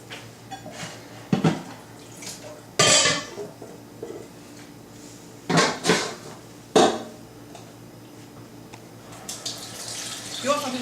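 Cold tap water runs over a wok as it is washed, in a handful of separate splashing bursts with quieter running water and a low hum between them.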